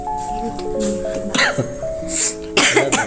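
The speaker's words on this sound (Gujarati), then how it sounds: "શરદી થઈ ગઈ ઉધરસ આવવા માંડી" Coughing from a cold mixed with a throat-clearing sound over steady tonal background hum, a few short bursts across the clip, fairly close.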